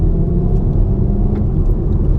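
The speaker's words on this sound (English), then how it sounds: "that noise you heard is not in fact the car at all, but a sound actuator" A sound actuator in a VW Golf GTI 7.5 plays an artificial engine note as the car slows on the road, a loud, low, continuous rumble that holds steady with no speech.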